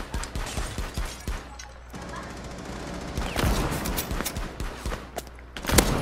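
Rapid bursts of gunfire in the video game Rainbow Six Siege, sharp repeated shots and short volleys mixed with mechanical clicks, fairly close, with faint voices under the action.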